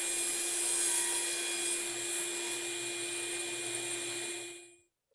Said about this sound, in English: Adjust the anti-kickback pawls and cross-cut the face frame pieces to length.